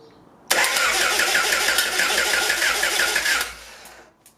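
A Honda single cam ZC engine, out of the car with only the starter and flywheel fitted, cranks loudly for about three seconds with a steady rapid chugging rhythm, then stops.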